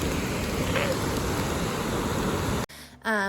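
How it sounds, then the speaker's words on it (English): Rain falls at Yellowstone as a steady, dense hiss and patter. Near the end it cuts off abruptly, and a voice follows. "It's raining."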